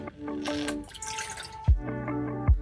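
Roughly 80 ml of water is poured into a pot for honey gingerbread cookies: a short splashing pour, then a couple of soft knocks and drips nearby.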